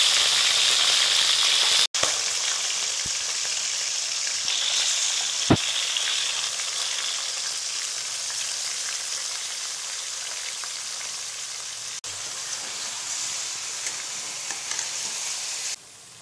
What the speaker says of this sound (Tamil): எண்ணெய் கொஞ்சம் ஊற்றி கடுகு போட்டு கருவேப்பிலை போடுங்க. சிக்கன் போட்டுக்கோங்க.